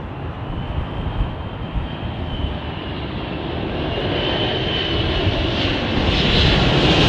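An Etihad jet airliner at London Heathrow Airport roars in a broad, continuous engine rumble that slowly builds over several seconds, fairly close and loud, with no voices present.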